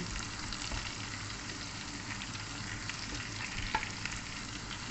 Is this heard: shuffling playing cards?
no